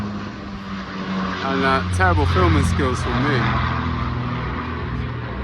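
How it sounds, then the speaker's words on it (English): A propeller-driven bomber flies over a classic car show on the grass at a carnival, its big prop engines giving a continuous drone that swells and fades, with someone talking over it. "Listen to those big old prop engines go."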